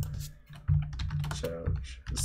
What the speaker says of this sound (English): Any of you guys can do this while I'm like typing.